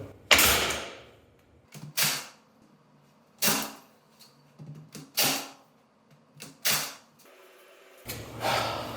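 A Makita nail gun drives nails into trim boards in a workshop, about eight sharp pneumatic snaps in uneven bursts, close and loud, with short pauses between shots.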